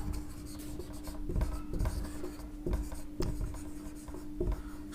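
A pen writes a journal entry by hand on paper during an accounting lecture. The scratching is close and quiet, with short repeated strokes and taps alongside a steady low hum, and no one speaks.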